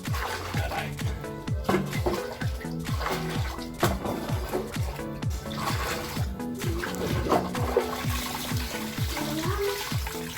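Hot water runs and splashes continuously while a bath is given to puppies, a steady close spatter with intermittent thumping and light background sounds.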